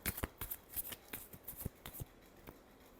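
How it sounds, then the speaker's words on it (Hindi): Tarot cards shuffled by hand in a quiet room, a rapid run of crisp riffling flicks and soft slaps that trail off into a few sparse taps near the end. "last shuffle"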